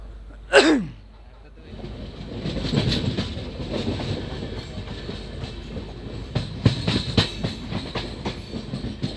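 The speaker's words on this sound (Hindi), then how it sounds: "तो गाइस हमारी ट्रेन डिपार्ट कर रही है यर्रगुंटला जंक्शन से।" A passenger train pulls out of Yerraguntla Junction with a steady rumble and rhythmic clatter of wheels, close and moderately loud, after a brief squeal or whistle at the start; faint voices mix in.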